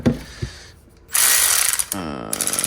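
A Snap-on ratchet works a 10 mm bolt on a Toyota Tacoma during a tail light install, giving a brief pawl click followed by bursts of loud, close, rasping ratcheting, with no talking.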